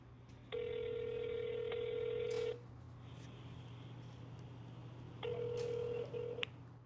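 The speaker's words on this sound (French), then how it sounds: "On va appeler ce numéro." Telephone keypad tones from a phone placing a call, two long steady beeping bursts with a quiet gap between them over a low constant hum, close and clear.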